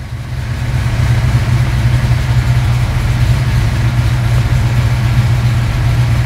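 A car engine fitted with FiTech ignition timing control idles steadily and close by, a low rumbling drone that holds a constant level throughout with no talking.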